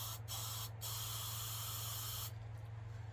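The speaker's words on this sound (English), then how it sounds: "grab your chalkboard paint, spray it into a lid" Short hissing bursts of an aerosol can of chalkboard spray paint sprayed into a lid, two quick puffs followed by a longer continuous spray, close and fairly quiet over a low hum.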